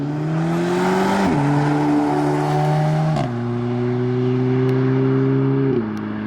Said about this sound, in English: Audi gang are going.